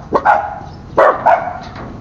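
Dogs bark in a Filipino home setting, with two clusters of loud, close barks, a pair of sharp yaps near the start and another pair about a second later.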